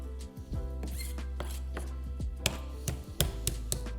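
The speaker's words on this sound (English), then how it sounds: "Just keep hitting it with the knife like this until you see it begin to lose its shape." A knife repeatedly hits shrimp on a cutting board, producing a series of about a dozen sharp, close taps in an uneven rhythm over a steady low background hum.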